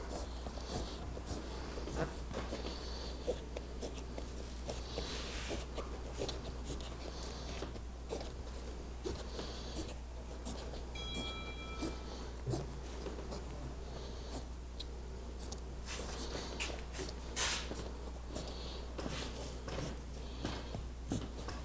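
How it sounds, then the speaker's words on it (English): A marker or scribe scratches a cutoff line onto Sea Ray Bimini canvas in short, irregular strokes, quiet and close over a steady low hum, with no talk. "I'm going to scribe it on the black line"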